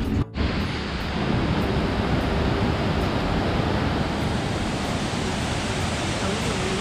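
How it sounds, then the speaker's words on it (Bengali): A monsoon-swollen waterfall near Haflong roars as a dense, unbroken rushing wash that fills the whole stretch after a brief dip at the start, loud and steady with no pauses. "এটা রেকজলের ওয়াটারফল"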